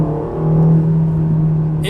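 A Ferrari Roma's engine pulls at half throttle, a steady loud droning hum with a strong low tone, holding level and smooth throughout, without talk over it.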